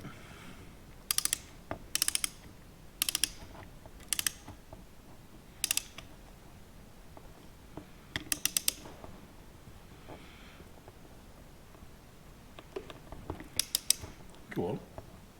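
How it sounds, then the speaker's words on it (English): Torque wrench ratcheting as bolts on a Rolls Royce C8 engine oil pump are tightened to 35 foot-pounds, heard as short bursts of rapid clicks repeated at roughly one-second intervals, then a few scattered clicks, close and fairly clear. "So we're going to torque these."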